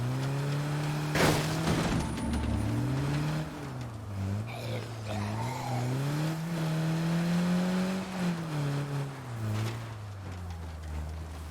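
A fast car's engine drones steadily in a video game, its pitch rising and falling as it accelerates and eases off. The sound is continuous and fairly close, with no talking.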